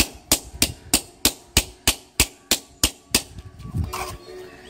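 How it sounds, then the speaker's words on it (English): A rubber mallet pounds a PVC sheet laid on old concrete, giving about ten sharp, evenly spaced thuds, followed by a brief rustle of handling at the end. "he's just going to hammer it"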